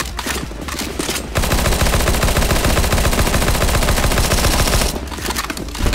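Rapid automatic gunfire from players shooting zombies in CS:GO Zombies, a dense sustained burst lasting several seconds between shorter stretches of shots, loud and close with no talk over it.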